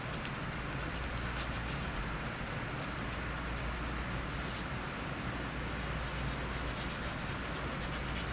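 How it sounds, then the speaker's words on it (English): A fingertip rubs chalk across paper to blend it, giving a faint, continuous dry scratching with no talking. "you're going to take your finger and you're going to rub the chalk"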